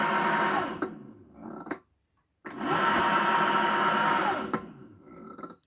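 Nissan Leaf electric motor fitted in a classic BMW conversion, a loud whirring whine that winds down, drops to near silence, then spins up and fades again, close by.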